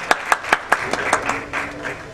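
At a music launch party for the film Godse, an audience claps to welcome guests, a run of sharp hand claps that thins out into scattered applause.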